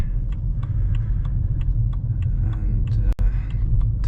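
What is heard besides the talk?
car driving on road, engine rumble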